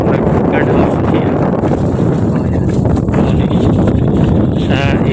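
Strong southwest monsoon wind sweeps across the outer and inner berth pier at La Filipina port in Iloilo City, buffeting the microphone with a steady, loud roar. Faint voices can be heard underneath.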